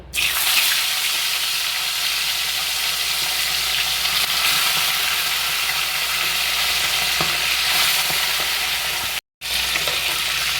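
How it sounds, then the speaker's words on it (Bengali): Fish shallow-frying in hot oil in a wok over medium heat, a steady bright sizzle crackling throughout, close and loud, with a brief gap near the end. "এবার মাছগুলো হালকা করে ভেজে তুলব।"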